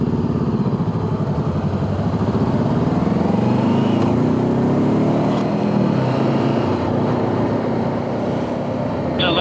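A Honda CT125 Trail Cub motorcycle engine revs close up and loud, its note climbing and falling through gear changes over a steady drone.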